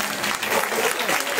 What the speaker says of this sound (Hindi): महाराज जी के लिए जोर से ताली बजाओ